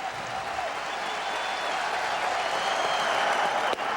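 Dense, sustained cheering from a baseball crowd at Turner Field during a Mets at Braves game, hoping for a strikeout, a steady roar at even loudness with a brief knock near the end.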